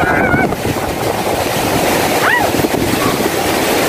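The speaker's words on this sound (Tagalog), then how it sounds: "Ang hangin." Strong typhoon wind from Typhoon Odette roars steadily and loudly across the whole stretch, gusting against the microphone, with faint voices and a brief whistle-like sound buried in the rush.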